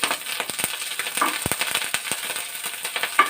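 Drumstick leaves curry frying in a pan sizzles steadily and quietly, with scraping stirs and light clicks of a spatula against the pan over a soft hiss.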